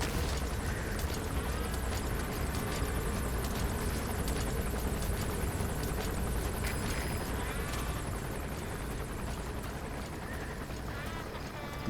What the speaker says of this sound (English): Der Heli kommt, der Heli.